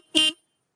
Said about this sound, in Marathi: पण याच्यात आपण बसवेले ये हॉर्न आहे बोलेरो पिकअपचं ओरिजिनल हॉर्न आहे